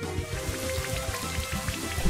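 Rain from the Rain Dance move in Pokémon Brilliant Diamond, a steady patter of falling rain with soft droplet taps over a low game music bed, even and continuous.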